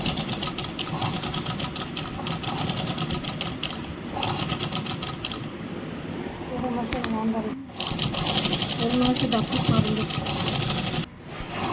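A sewing machine stitches the waistband onto a katori blouse in steady rapid whirring runs with brief pauses, close and loud, while someone talks over it.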